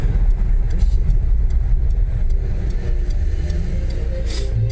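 A Mazda MX-5 running near a street in Scotland, its engine a steady low rumble with constant road noise and a faint rise in pitch near the end, no talking.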